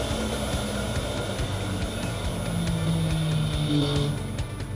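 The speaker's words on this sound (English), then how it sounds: "The duty cycle is increased, the motor speed also varying." Three-phase switched reluctance motor driven by a DSP controller running at varying speed, giving a steady close whine and hum with rhythmic clicking pulses, moderately loud with no talk.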